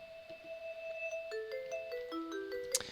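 A quiet FL Studio hardstyle synth melody steps down through several sustained notes, ending in a brief bright burst.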